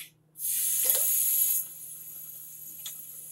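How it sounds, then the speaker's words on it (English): Tap water runs over a smouldering sage bundle to put it out, a steady hiss and spray lasting about a second before dropping to a faint trickle, with a small splash near the end. "You just have to dip it in water or run water over it."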